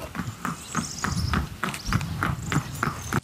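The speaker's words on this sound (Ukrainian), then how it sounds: "Поміж автівками на коні їде додому черкаський козак Володимир." A horse ridden home by a Cherkasy Cossack between cars on a city street, hooves clip-clopping in a steady, even walking rhythm, close and clear over faint traffic hum.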